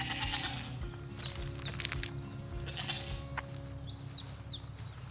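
Male goats on an off-grid homestead in Hawaii bleat repeatedly, close and clear, over steady farm ambience with chirping birds.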